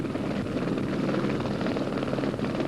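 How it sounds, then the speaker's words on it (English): A medical helicopter carrying a burn patient to a hospital rooftop landing pad in Houston, its rotor and engine producing a steady, loud, continuous drone with a dense, fluttering chop and no voices. "The pilot and medics load the patient into the helicopter."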